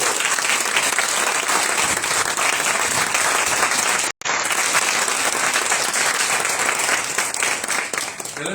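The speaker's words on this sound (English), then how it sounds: "Let's give a round of applause." Sustained applause from an audience honoring three award winners at an official ceremony, dense and steady throughout with one very brief dropout midway.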